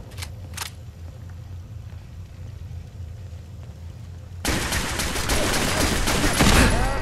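Automated turret gunfire in Fallout 4 bursts in as a loud, dense volley that starts suddenly partway through and continues to the end, following a stretch of low game ambience with a couple of brief clicks.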